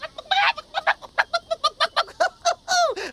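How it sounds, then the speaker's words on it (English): A chicken clucks in a rapid, uneven series of loud, close squawks and clucks, some rising into drawn-out calls, with no talking over it. "Now look at that funny little chicken."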